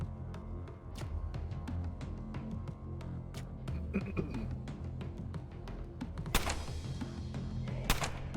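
Gunfire in Underrail, with sharp scattered shots cracking at irregular intervals and a couple of louder bursts near the end, heard over a low ambient hum.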